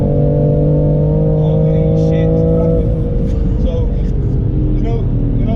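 BMW M3 Competition with a stage one tune, accelerating hard: a loud, sustained engine drone with a strong low harmonic that climbs and shifts partway through, close and dominant, with a voice talking over it.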